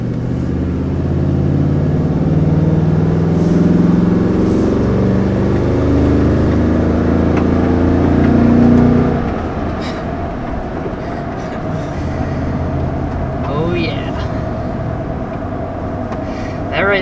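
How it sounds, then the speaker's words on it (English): A 2020 Toyota Tundra TRD Pro's big V8 rumbles loudly and steadily while driving, a deep throaty drone that eases off partway through and settles to a quieter cruise. "just listen to that sound. Big burly V8."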